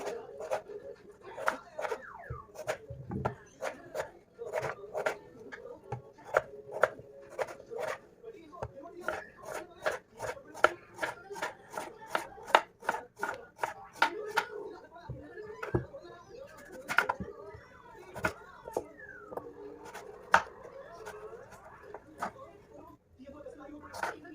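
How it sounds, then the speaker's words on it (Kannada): Radish, carrot and potato are cut into medium pieces on a board for sambar, making rapid, irregular knife taps that go on throughout, with a voice at times in the background. "ನಾವು ಕುಕ್ಕರ್ ಹಾಕಿ ಬೇಯಿಸ್ಕೊಳ್ಳೋದ್ರಿಂದ ಮೀಡಿಯಂ ಸೈಜಲ್ಲಿ ವೆಜಿಟೇಬಲ್ಸ್ನ ಕಟ್ ಮಾಡ್ಕೊಳ್ಳಿ."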